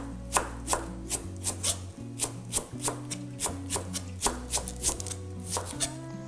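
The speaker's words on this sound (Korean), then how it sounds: "대파를 썰어 보겠습니다" A knife cutting green onion into diagonal pieces on a board, a run of crisp, fairly even close chops at about two per second over soft background music.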